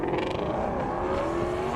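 Drag racing cars, a Mustang GT350 and a Toyota Supra, roar down a half-mile airstrip, their engines loud and sustained with a rising pitch as they accelerate side by side.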